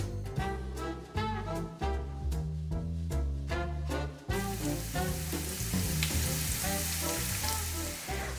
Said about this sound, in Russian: Там буду жарить лук.